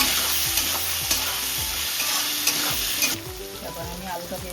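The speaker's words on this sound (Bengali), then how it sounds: "এখন আলু দিয়ে দিচ্ছি। এখন আমি 1 চামচ নুন দিয়ে দিলাম। এখন আমি এটাকে ভালো করে মিলিয়ে দেব।" Potatoes with a spoonful of salt fry in a pan for Bengali aloo posto, a loud close sizzle with repeated rhythmic scraping strokes of a spatula, easing slightly near the end.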